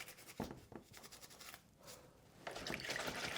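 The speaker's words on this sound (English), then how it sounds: "I'm just going to rinse it straight out in there. And then I'm just going to give it a gentle rub over." A kettle being rubbed over and rinsed with water, heard as close, uneven scrubbing and rubbing strokes with splashes and trickles of water that grow denser and louder toward the end.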